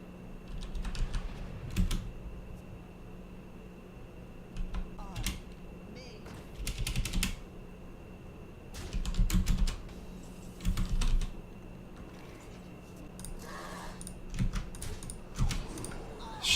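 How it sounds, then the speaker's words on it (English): Bursts of computer keyboard typing come in irregular clusters of quick clicks separated by pauses, close and fairly clear over a faint steady background hum. "I was like typing stuff in chat."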